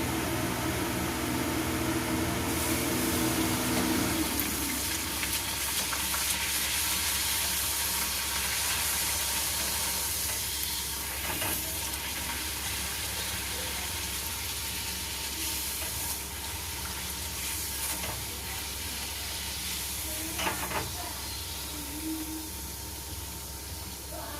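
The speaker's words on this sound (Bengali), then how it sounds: "সব লুচি ভাজা হয়ে গেছে, আর এই কটা বাকি। আর এই কটা ভাজলেই হয়ে যাবে।" Luchi, puffed flatbread, deep-frying in hot oil in a home kitchen, a continuous close hiss and sizzle that holds steady with a few faint clicks, no voices.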